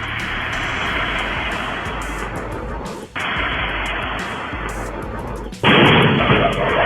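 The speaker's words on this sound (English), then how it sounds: "A terrifying and shocking explosion from a pickup truck" Loud roaring blast from an exploding pickup truck on the road, a dense broadband rumble that cuts out briefly, then surges back even louder as a second burst.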